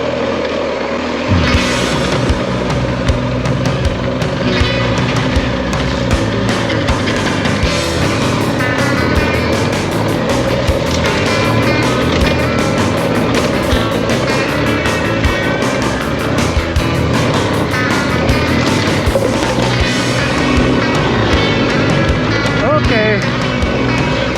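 BMW R 1250 GS Adventure motorcycle ridden solo along an off-road trail, its engine droning loud and steady throughout with wind and rough terrain noise mixed in, and occasional talk over it.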